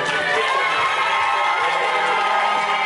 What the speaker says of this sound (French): Recevez le coup par un tonnerre d'applaudissements ici.